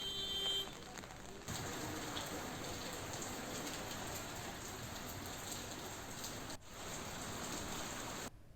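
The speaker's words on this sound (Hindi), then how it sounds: "फिलहाल अभी भी इलाके में बारिश हो रही है।" Steady rain pours down in a hilly area of Uttarakhand, a dense, even hiss of drops hitting surfaces that carries on throughout with a brief dip partway.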